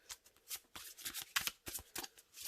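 A deck of thin matte playing cards being riffle-shuffled, soft quick bursts of crisp fluttering, close and quiet, repeating several times in quick succession.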